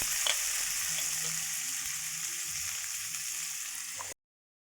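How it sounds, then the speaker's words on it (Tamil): Onions sautéing in a pan toward golden brown for a vegetable kurma, a steady close bright sizzling hiss with a faint stir or two, cutting off abruptly at the end. "வெங்காயம் சேர்த்து பொன்னிறமாக வதக்குங்க"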